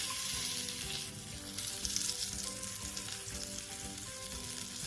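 Silver biddy fish, coated for a Malvani or Mangalore style rawa fry, sizzles steadily in a frying pan with a continuous bright crackle and no pauses.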